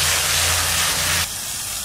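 Spice paste of coriander, dried chilli, salt and turmeric with a splash of water sizzling hard in a pan, a loud steady hiss that drops slightly in intensity near the end.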